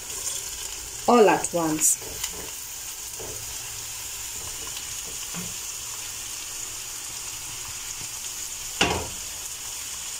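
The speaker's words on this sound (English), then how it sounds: "Then I'll add in my capsicum." Capsicum tossed into a hot pan for vegetable rice, giving a loud burst of sizzling and clattering stirs at first, then a steady low frying hiss with a faint scrape near the end; a voice speaks briefly.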